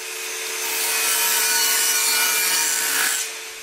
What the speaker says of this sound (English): So I get the box on the saw